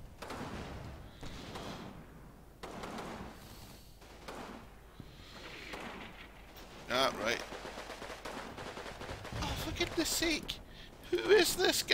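Artillery and machine-gun fire in the video game Combat Mission, with dull booms and clattering bursts that grow denser and louder toward the end, under someone talking.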